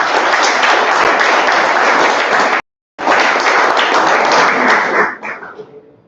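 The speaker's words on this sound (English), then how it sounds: "Those thundering rounds of applause, can we hear it come again?" Thundering applause from a Toastmasters club meeting, loud and dense from many hands, cut by a brief silent gap, then resuming before trailing off into scattered claps.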